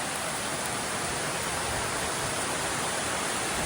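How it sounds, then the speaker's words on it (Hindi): Heavy rain pours down steadily in Punjab amid flooding and water pooling everywhere, a dense, loud, continuous hiss of downpour with no voices. "देखो कितनी तेज बारिश होने लग रही है"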